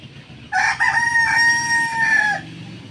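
A rooster crows once, loud and close, in a single drawn-out call lasting about two seconds, with no talking over it.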